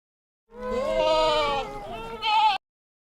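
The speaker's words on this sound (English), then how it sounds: "Goat." A goat bleats loudly and close by, one long quavering call with a brief rising catch at the end, no other sounds.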